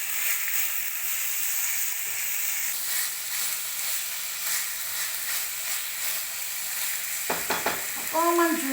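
Pieces of chicken fry in a pan for curry with ridge gourd, giving a continuous close sizzle and hiss with occasional stirring, and a voice briefly comes in near the end.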